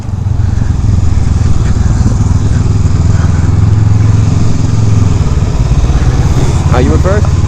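A Honda Rebel 500 motorcycle engine roars loud and close as the throttle is opened hard in first gear, a sustained rough drone with faint voices over it toward the end.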